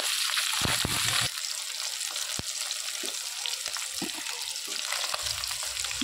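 Fresh fish frying in a pan, a steady close sizzle and crackle that runs the whole time, with occasional pops and a brief stirring or clatter.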